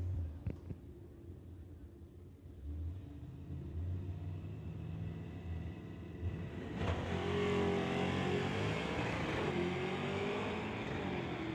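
At a drag strip, a 1968 Ford and a 1971 Pontiac idle with a deep rumble, then launch into a loud, roaring acceleration, heard from a distance without talk.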